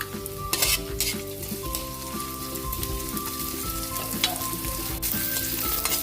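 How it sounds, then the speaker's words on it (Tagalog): Onion frying in a pan hisses with a continuous light sizzle and occasional stirring scrapes, heard up close over a steady faint background hum. "Sunod na rin natin yung ating sibuyas."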